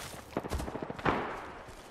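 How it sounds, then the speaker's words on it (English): Rapid gunfire in an Apex Legends firefight, a quick string of close shots followed by one louder blast that trails off into a short echo. "Getting shot at."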